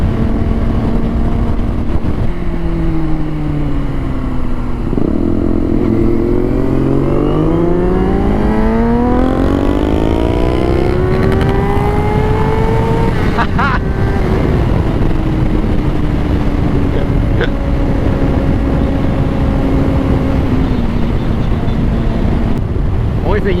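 A Honda CBR 600RR motorcycle's engine revs hard toward redline on curvy Wisconsin backroads, its rising whine climbing through several gear pulls under constant loud wind rush, then settling into a steadier drone.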